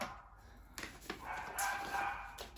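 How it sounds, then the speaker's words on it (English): Small puppies bark and yip indoors in a few short bursts, moderately close and fairly quiet, over low background noise. "I'm sorry for my puppies barking."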